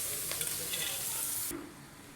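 Chopped onion hits hot oil left from frying vetki fish, giving a close, bright sizzle that drops off sharply partway through, leaving a quieter hiss.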